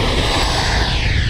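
Arrows RC Marlin 64mm electric ducted-fan RC jet flying close by, its steady loud broadband whoosh and whine holding constant across the short span with no pauses.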